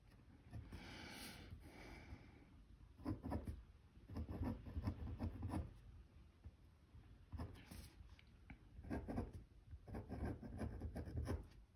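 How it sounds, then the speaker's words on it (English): A pen writes in cursive on paper, giving soft scratchy strokes in short bursts with brief pauses between words, close and quiet. "I will write in cursive just kind of the name of the boy."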